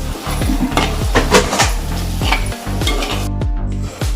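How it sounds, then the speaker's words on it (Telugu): Spice paste of garlic being stirred into a fish and mango curry in a pan, loud rhythmic scraping strokes of a spoon against metal over a sizzle, repeating steadily with brief pauses. "ఇది వేసిన తర్వాత కలుపుకోవాలి."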